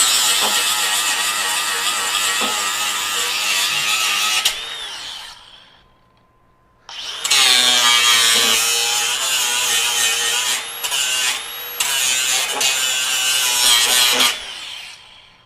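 A Metabo HPT 36V cordless grinder bevels a quarter-inch workpiece with a loud, sustained grinding whine that briefly drops off and then starts again, close and continuous.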